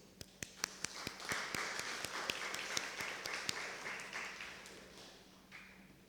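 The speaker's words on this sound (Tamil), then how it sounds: "ஸோ அவரும் நம்ம கைத்தட்டி வர வைப்போம்." A church congregation at a Sunday service breaks into applause, beginning with a few crisp, separate claps that swell into a dense, even patter and then fade out.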